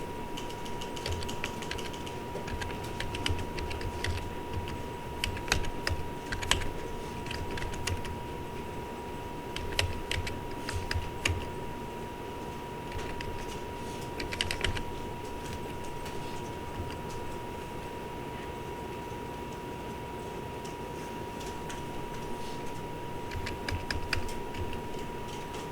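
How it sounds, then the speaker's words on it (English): Steady computer keyboard typing as numbers are entered, continuous irregular key clicks over about 25 seconds with a few louder taps, moderately close and with no talking. "And then type those numbers in."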